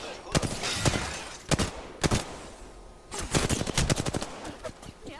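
Gunfire in the Xbox game Batman Arkham Origins comes in sharp bursts: a few single shots and then rapid clusters of rounds, loud and close, over a low background rumble.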